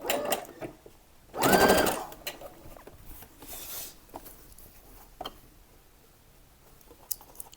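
A sewing machine runs a short burst of stitching along a seam 1 cm from the edge, a quick whirring rattle lasting under a second, followed by quiet handling clicks and fabric rustles.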